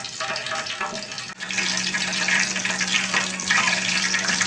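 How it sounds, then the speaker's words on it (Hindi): Tap water runs steadily while hands are washed in a kitchen where pakoras are being made. The close, continuous splashing pauses briefly and then flows louder, with no voices. "हाथों को अच्छे से धो लें।"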